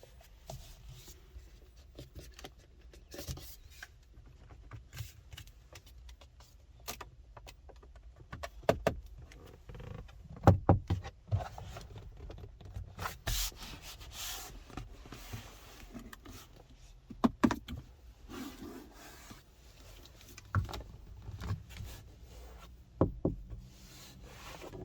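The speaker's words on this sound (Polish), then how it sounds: "jak słyszeliście, pojawiają się lekkie skrzypnięcia" Plastic interior trim creaks lightly inside a Fiat Tipo Kombi 1.6 MultiJet, with hard, cheap-feeling door panels. Faint, scattered creaks and small knocks come and go over quiet cabin noise, with a few sharper clicks and no speech.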